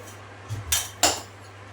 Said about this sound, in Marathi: घासलेली भांडी पण मांडायची आहे